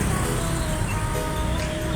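Buses rumble through an Indonesian bus terminal, with steady broadband engine and traffic noise throughout and no clear distinct events.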